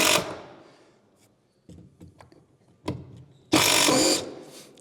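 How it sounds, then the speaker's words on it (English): A power driver sinks screws into a Trex composite decking display, with short mechanical whirs and clicks and then one louder, sustained burst of driving near the end, heard close up. "zinging some screws in their display here"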